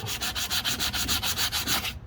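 Steady rhythmic hand sanding of high spots on a damaged metal wheel, about a dozen even back-and-forth strokes of abrasive rubbing on metal, close and continuous, stopping abruptly at the end.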